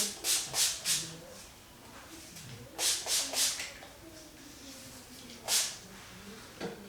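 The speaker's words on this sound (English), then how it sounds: "just a few sprays and kind of rubbed it through" Several quick bursts of hair primer spray hiss close by in three clusters, with soft rubbing and handling sounds between them as the product is worked through a section of hair during a blowout.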